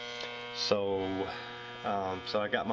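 An H10 refrigerant leak detector gives a steady electrical hum with a buzzing tone throughout, while someone talks over it.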